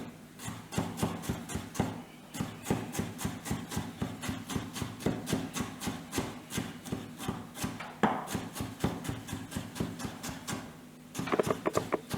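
Knife slicing through stacked vegetables into thin julienne on a board, a steady rapid rhythm of crisp close cuts continuing for many strokes, alone without talk.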